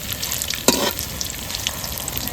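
Steady crackling of potato balls for kofta frying in hot oil, with a brief louder stir or splash near the start; continuous and fairly close.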